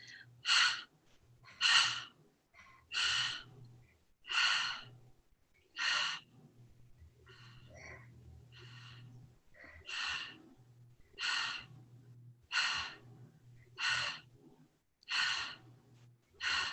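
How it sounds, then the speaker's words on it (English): A run of about eleven sharp, breathy panting exhales, each voiced like the word "ha", comes in a steady rhythm, close and loud, with a short irregular gap in the middle. "the breathing is a pant, like you're saying the word ha"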